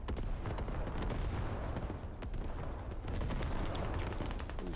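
Rapid, continuous gunfire and distant booms from a military shooter game set in an Al Basrah invasion battle, dense and loud throughout with overlapping shots and no talking.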